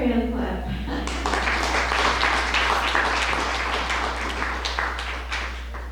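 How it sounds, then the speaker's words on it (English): Audience hand clapping rings out through a hall, a steady wash of applause lasting several seconds with a faint low hum beneath it. "Another hand clap."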